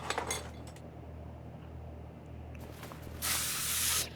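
In the game Car Mechanic Simulator 2021, spray is applied to a car part: faint clinks and tool clicks lead into a steady, bright hissing spray near the end.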